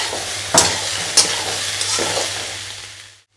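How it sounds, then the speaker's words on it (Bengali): Soybean chunks fry in a pan, a steady close sizzle broken by two sharp spatula scrapes and a softer stir, fading out at the end with no voices. "সয়াবিনটা আমার একটু লাল লাল করে ভাজা হয়ে গেছে"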